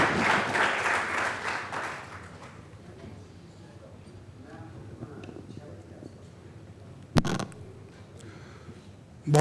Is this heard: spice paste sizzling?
no